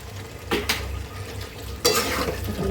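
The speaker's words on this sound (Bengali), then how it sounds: "এখন নাড়াচাড়া করে দিই" A spoon scrapes and clatters against a pan as beef liver curry is stirred, two short bursts of stirring over a low background sizzle, close and moderately loud.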